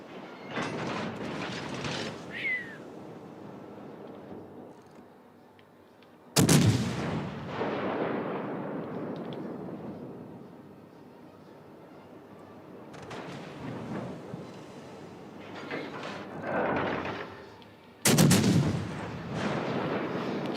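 Warship rear turrets fire in a naval battle game: three heavy booming salvos, each with a sharp onset and a long rolling decay, separated by quieter stretches of ambient rumble.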